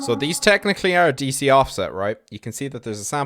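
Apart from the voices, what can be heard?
No everyday noise stands out behind the speech.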